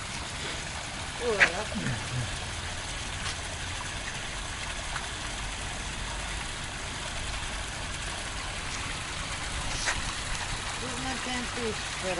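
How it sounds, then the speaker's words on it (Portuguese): Faint, steady rush of water running in a park fountain in the Luxembourg Gardens in Paris, a continuous wash with people talking over it. "Esta fonte tem água."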